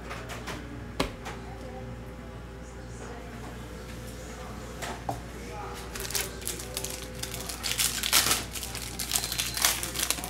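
A 2021 Mosaic football hobby pack ripped open, giving close, crackling foil crinkles and tearing that grow busier toward the end, with talking over a steady low hum.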